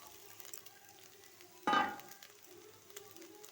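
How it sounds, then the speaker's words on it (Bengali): Onions fry for egg bhujia in a pan, a low steady sizzle that flares into a sudden loud hiss, then settles back to a gentle crackle. "সব একসঙ্গে একটু ভাজা ভাজা করে নেব"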